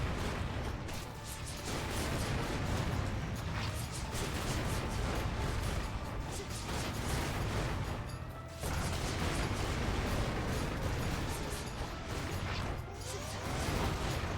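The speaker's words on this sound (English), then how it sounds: "we got a lot of explosions and stuff, huh?" Dense, continuous game combat noise with rapid booming bursts and crashing impacts, explosions from Hades II battle against Eris, loud and sustained for most of the span with a brief lull near the middle.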